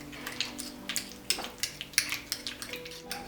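Processed cheese in a bowl being mashed and mixed, a run of soft scraping clicks and light taps of utensil against the bowl, close and fairly quiet, with no voice.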